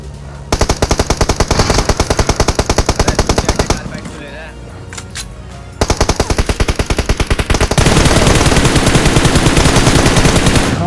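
Rapid automatic gunfire from a fight in a battle royale video game, with dense bursts of shots that pause briefly midway and then resume louder and more continuous toward the end, with no talk.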